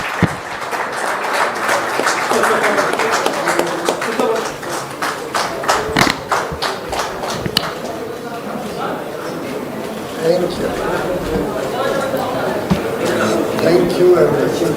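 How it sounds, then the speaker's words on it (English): Warm audience applause at a business partnership summit, a dense steady wash of many hands clapping that carries on for the whole stretch, with some talk over it and a brief fade toward the middle. "please join me in thanking our two leaders with your warm applause"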